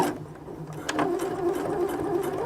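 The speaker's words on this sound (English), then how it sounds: "what I'm going to be doing is to make a stitch just to lay this fabric flat" A sewing machine stitches layers of fabric together, its motor humming close and loud in a rapid, even run that starts just under a second in and keeps going to the end.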